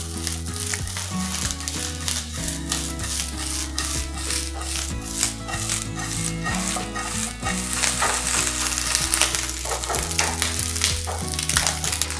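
Small fish fry crisply in a pan at home, a steady loud sizzle broken by repeated scraping and rattling strokes as they are stirred.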